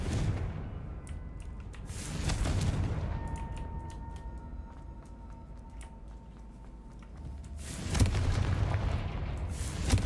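Blasting spells and explosions go off in the Hogwarts Legacy video game, with booming bursts at the start, a rumbling swell mid-clip and another heavy blast near the end over a roaring backdrop.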